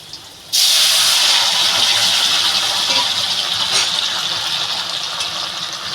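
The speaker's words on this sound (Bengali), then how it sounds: "এবার তরকারিটা ঢেলে দেবো" Curry liquid poured into a hot pan over burnt garlic, for a chela fish and helencha greens curry, bursts into a loud, sudden sizzling hiss that holds strong and steady, easing only slightly over several seconds.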